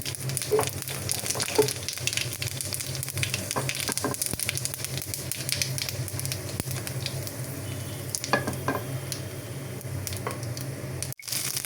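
Bay leaf, dried chilies and panch phoron fry in hot oil for tempering, giving a steady close sizzle with crackling pops and faint stirring scrapes.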